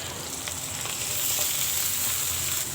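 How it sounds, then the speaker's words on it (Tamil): Salted, chopped gooseberries sauté in hot oil with curry leaves for a pickle, giving a steady, close hiss of frying with no talk. "நம்ம பச்சையாகவே பண்ணுறதுனால இந்த எண்ணெயில் கொஞ்சம் நல்லா வதக்கிக்கிடலாம்."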